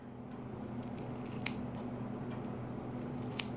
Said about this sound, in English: because these are thinning shears and not regular scissors, it doesn't all come off at once